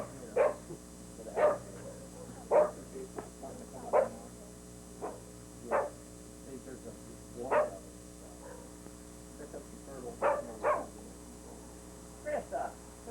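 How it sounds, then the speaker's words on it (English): A dog barks repeatedly at a wildlife safari park, a dozen or so sharp, fairly close barks spaced about a second apart over a low electrical hum. "quit barking"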